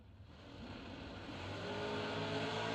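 Third-generation Camaro and the Fuel Factory Camaro drag racing cars launch together, a steady, loud engine roar that swells and builds over a few seconds with no talk.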